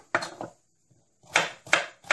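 A knife chopping carrots, celery, onions and garlic on a board for spaghetti bolognese, a few sharp close chops in two quick clusters separated by a short pause.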